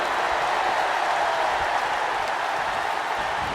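A crowd in a WWE 2K25 video game wrestling arena keeps up a steady, loud roar of cheering and applause, a broad, even wash of noise throughout.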